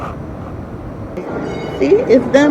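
A subway train rumbles steadily nearby, with screeching metallic squeals rising near the end while someone talks over it.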